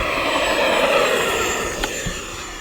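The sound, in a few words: FMS F-16C 70mm EDF RC jet taking off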